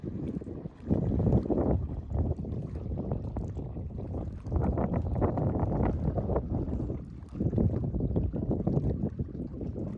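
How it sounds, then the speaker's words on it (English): Strong wind buffets a boat on Georgian Bay during a Great Loop cruise toward Tobermory. A loud, rumbling gusty roar batters the microphone continuously, swelling and dipping in waves. "Seriously, I just got picked up by the wind."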